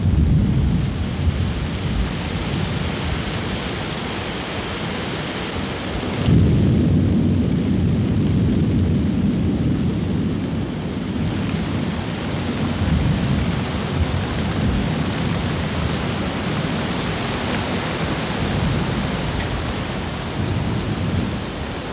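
Afternoon thunderstorm in Australia's Northern Territory: heavy rain pours in a dense, steady hiss while low thunder rumbles swell, with a strong surge partway through, no voices.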